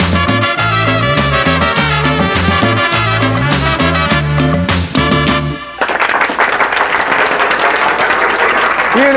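A live studio audience at a television music show breaks into loud, sustained applause and cheering for a Colombian band, following the band's brassy cumbia finish, the clapping filling the room alone after the music stops.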